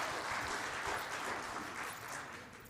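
A worship congregation at a next-generation church service claps together, a faint, steady patter of applause heard from a distance that tapers slightly toward the end.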